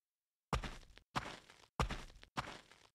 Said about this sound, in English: we can hear what happens if we change the material the player is walking on to gravel.